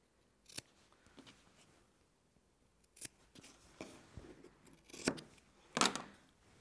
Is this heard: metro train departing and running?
no